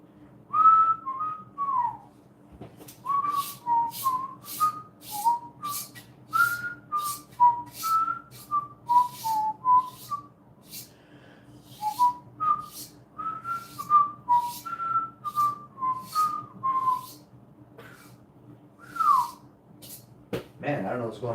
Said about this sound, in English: I miss-whistled there at the end